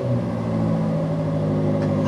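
A BMW M8 Competition engine runs at a steady, deep idle, with a continuous, close, loud rumble made of layered low tones.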